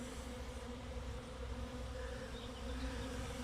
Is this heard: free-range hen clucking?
no